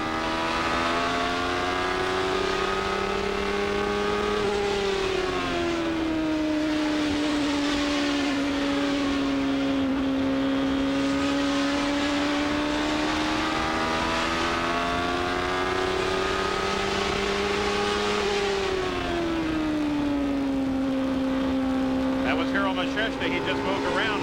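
Onboard sound from a 1994 IndyCar at the Milwaukee Mile, a loud continuous engine scream rising and falling in pitch as the driver feathers and reapplies the throttle through the corners, steady and close with no break.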